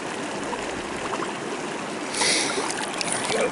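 A mountain stream rushes steadily nearby while a wide-mouth bottle is filled, a continuous watery hiss with a brief brighter gurgle partway through.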